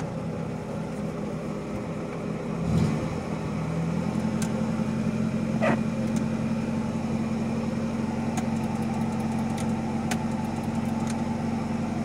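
A Toyota Corolla GL engine idles steadily, a close, even hum with a constant low drone throughout, punctuated by a few small clicks and knocks, with no one speaking.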